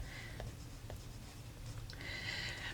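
Pen or pencil writing an answer by hand during a maths lesson, a soft continuous scratching with faint strokes, close and quiet, with no talking.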